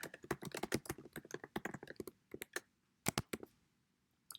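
Rapid, uneven keystrokes on a computer keyboard, dense bursts of clicking with short pauses between, close and moderately loud, no talking.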